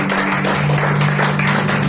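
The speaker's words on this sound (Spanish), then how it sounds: "Dan un fuerte aplauso a Dios." A church congregation applauds during a worship service, a constant broadband patter of many hands over a steady low tonal hum, sustained without pause for about two seconds.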